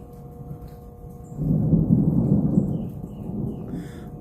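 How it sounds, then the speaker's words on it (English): Thunder rumbles through a storm, a low rolling swell that builds, peaks and slowly fades, with faint rain underneath. "There's the thunder."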